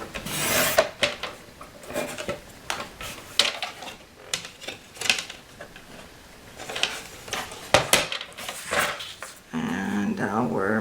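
A paper trimmer cuts card for a craft page, with repeated rasping slides and scraping strokes of the blade and short rustles of paper, close by.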